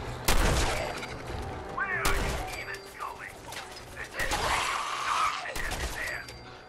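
Gunfire rings out in Fallout 4 on Xbox Series X: several sharp, loud bursts of shots spaced a second or two apart, with game noises and a voice at times between them.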